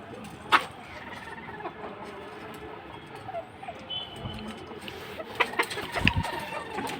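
Chickens make scattered soft clucks and short calls in a quiet coop, faint and intermittent, with occasional brief knocks and rustles.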